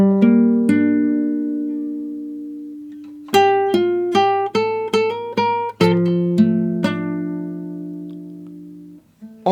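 An acoustic guitar plays a theme melody from the game A Plague Tale: Innocence as single plucked notes. A few notes ring out and sustain through a long pause, then a quicker run of rising notes follows, played alone and close.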